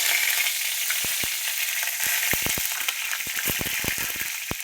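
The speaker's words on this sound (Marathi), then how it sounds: "चांगली फुटू द्यायची बघा मस्तपैकी मध्ये" Curry leaves crackling in hot oil during tempering, a busy run of sharp pops and snaps over a steady frying hiss, growing denser toward the end, with no talking.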